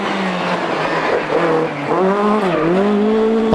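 Rally car driven hard on a stage at the Rally of the Lakes, its engine revving loud and close with rising and falling pitch as gears change, tires scrabbling and skidding under the roar.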